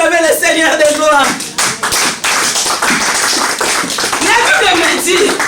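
A church congregation claps and cheers to acclaim the Lord, a loud, steady wash of applause with voices calling out over it throughout.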